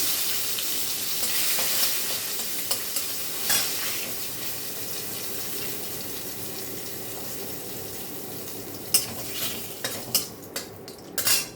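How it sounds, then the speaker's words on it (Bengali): Dried red chillies and a bay leaf sizzle in hot oil in a pan for a khichuri tempering, a steady close crackle with scattered utensil clinks and stirring scrapes growing busier toward the end. "শুকনো লঙ্কা ফোড়ন দিলাম, তেজপাতা দিলাম"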